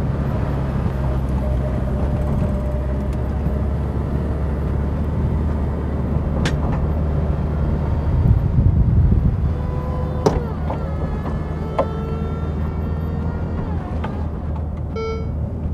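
A Ferrari F8 Spider's retractable hardtop roof folds during slow driving under 30 mph, a steady mechanical hum over engine and road rumble with a few sharp clicks and clunks midway.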